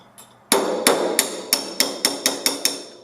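A hammer taps out a valve stem on a Flo-Tite Tri Pro series valve with about nine sharp metallic strikes, the first loudest, then a steady even rhythm of close, clear blows.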